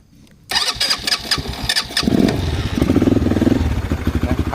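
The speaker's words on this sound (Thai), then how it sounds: "มาเดี๋ยวมาฟังเสียงเครื่อง ยนต์ กัน เครื่องยนต์ตัวนี้ นะ ครับเป็นเครื่องยนต์ระบบ CVT" A new, cold Konik Z200 ATV engine (2022, CVT) cranks over with a few rapid starter pulses, catches and settles into a loud, steady putter of idling right up close.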